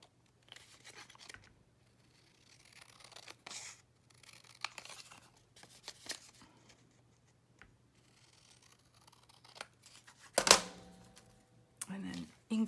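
Scissors cutting out a paper ephemera piece for a shabby lace folio craft project, with soft intermittent snips and paper rustles, a sharper crinkle near the end, under a faint hum.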